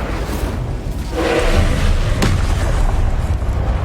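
A fiery Incendio spell bursts in the Hogwarts Legacy video game, a loud booming whoosh that swells around the middle and holds as a sustained rumble over continuous game noise.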